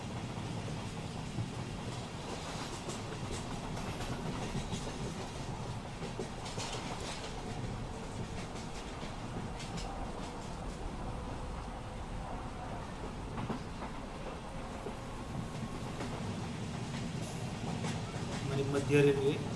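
A Central Railway EMU local train running on the main line gives a continuous loud rumble with rhythmic clickety-clack of wheels over rail joints, building slightly louder toward the end.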